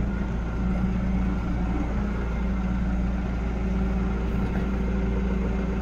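A tractor idles nearby on a farm, a steady, unchanging low engine drone that holds at an even level from start to finish with no talk over it.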